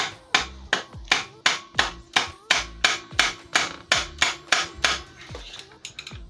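A hammer strikes a bolt being driven out of the clutch of a 47/49cc mini bike, giving about fourteen sharp metallic blows at a steady, even pace, loud and close, with no talk.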